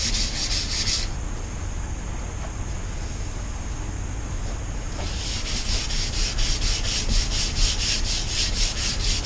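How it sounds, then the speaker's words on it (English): Hand sanding across a cured epoxy resin surface, a steady scratchy rasp of rhythmic back-and-forth strokes, close and continuous with a brief change in stroke near the start. "But you can see I'm not going crazy sanding."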